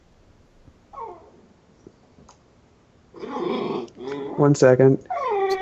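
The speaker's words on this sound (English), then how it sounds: "That's a dog, not a human." A dog growls softly and whimpers, short faint sounds early on, and then louder voiced whines and yips come in rapid bursts toward the end.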